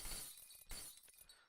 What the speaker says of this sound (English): some of them might break. So like in here, there's some glass right here. So you just want to break this glass